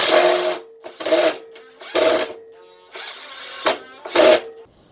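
A cordless impact driver drives a screw in a series of loud, close bursts of rapid hammering and whirring, about five runs separated by short pauses, with a steady tone lingering faintly between them.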